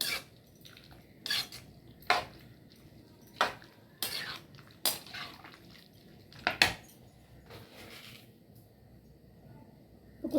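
Chopped tomatoes being stirred into squid gravy in a pan, heard as a series of sharp metallic clinks and scrapes of a spoon against the pan at irregular intervals, with quiet soft stirring between them and no talk.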